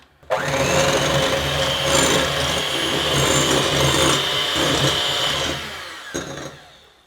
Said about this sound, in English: we are going to continue to mix until we have about soft peaks formed